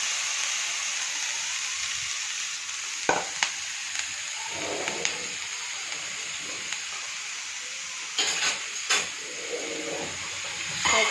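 Cabbage, carrot and capsicum sauté in hot oil in a pan, giving a steady sizzling hiss with a few scattered clinks and stirring knocks from the pan.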